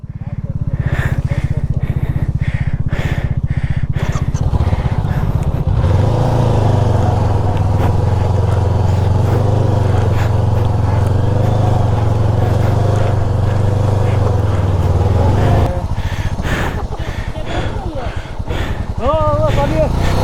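A motorcycle on a snowbound Upper Mustang trail revs hard and steadily for about ten seconds, its tyre spinning in deep snow and mud, with close engine roar and shouting voices before and after.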